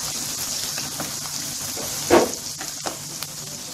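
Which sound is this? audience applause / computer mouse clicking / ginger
ginger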